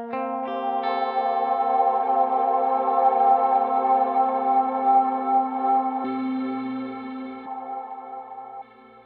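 Sustained electric guitar tone drenched in 100% wet choir-style reverb from a Helix modelling a Strymon Big Sky, shaped by a wah pedal into a vowel-like swell; a long smooth wash with a shifting pitch near the end, no voices.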